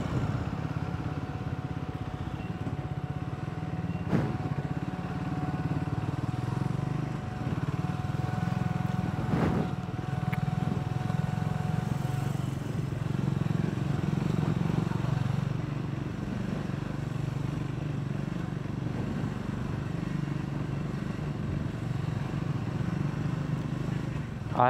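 Triumph Scrambler 400X motorcycle riding through traffic at night, a steady low engine drone running throughout with a couple of sharp knocks, fairly loud and continuous.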